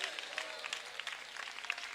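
Applause from a church congregation during a Malayalam Christian sermon, a steady wash of many hands clapping at once that goes on throughout the clip without pause.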